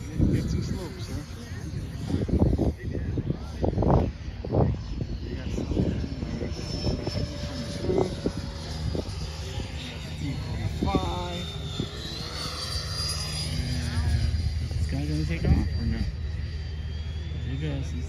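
A Lockheed T-33 jet aircraft flying at an airshow, its engine roar droning steadily at a distance throughout, with other aircraft and crowd chatter in the background and people talking over it.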